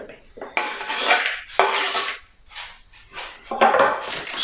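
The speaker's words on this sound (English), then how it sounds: "So I'll just quickly chop this. So we can take that onion, add that into here." A knife chops onion on a board for marinara sauce, sharp knocks and scraping strokes coming in bursts, close and fairly loud, with no talking.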